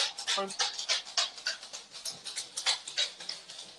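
A dachshund panting up close, quick rhythmic breaths in a steady series of short puffs, fairly soft, with people talking briefly nearby.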